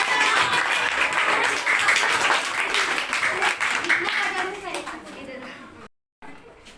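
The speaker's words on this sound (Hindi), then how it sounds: "आप एक जोरदार तालियां आप सबके लिए।" Schoolchildren in an eighth-grade class applaud together in a loud, continuous burst of clapping mixed with young voices, then it drops away abruptly near the end.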